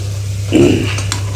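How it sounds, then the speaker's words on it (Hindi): Tomato chutney cooking in a pan at home, a brief scrape and clink of a spoon stirring midway over a steady low kitchen hum, close and fairly loud. "ये टमाटर का चटनी बन रहा है"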